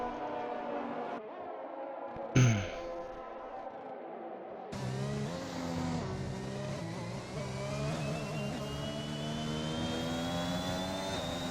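A Formula 1 car's engine in F1 2021 at the China circuit screams and climbs in pitch, dropping sharply at each early upshift through a couple of gears before winding up again, loud and steady.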